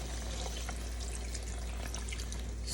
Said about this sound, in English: We're just gonna add enough water to cover the chicken and all this good stuff.